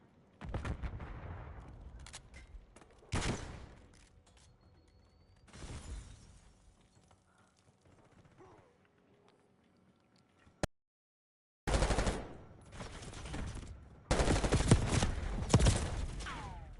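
Gunfire in a video game: several loud sharp bursts of shots, some in rapid clusters, spread across the clip with quieter stretches and a brief full silence between them.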